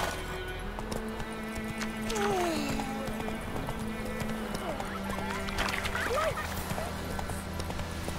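Hooves of Roach, the horse in The Witcher 3 video game, clop in a steady galloping rhythm under continuous in-game sound and a low hum, with a brief whinny-like call rising midway.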